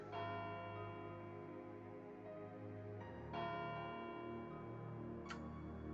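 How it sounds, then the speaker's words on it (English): A church bell tolls a few slow, resonant strokes at a moderate distance, each long ringing decay overlapping the next in a quiet scene, set within a fantasy tabletop game session. "the bell stops"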